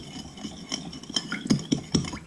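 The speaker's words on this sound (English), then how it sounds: "Make sure you stir all the sugar in to get an accurate idea of the sweet to the sour to the salt with the soy" A spoon stirs sugar into a soy sauce mixture in a bowl, producing a few quick clinks and scrapes against the side that grow louder and more rhythmic toward the end, with no voices.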